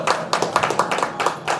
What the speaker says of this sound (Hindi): इस बिटिया के लिए ताली बजा दो